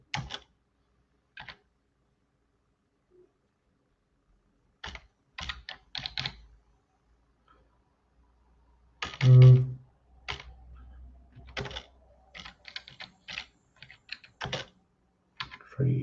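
Short, scattered bursts of typing on a computer keyboard in a quiet room, with pauses between the clicks and one louder thump partway through.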